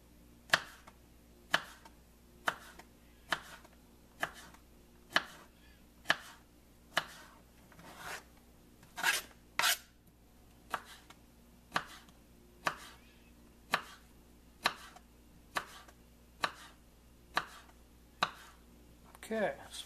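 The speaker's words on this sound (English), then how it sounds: "And then I cut off the skin" A knife cuts the peel off fruit on a board: about twenty crisp, close cuts at an even, unhurried pace with quiet gaps between them.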